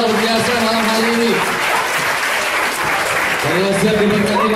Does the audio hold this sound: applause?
yes